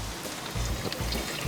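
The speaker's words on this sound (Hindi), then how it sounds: "यहाँ इतनी बरसात हो रही है" Heavy rain makes a dense, continuous hiss that fills the scene, with low rumbling surges underneath.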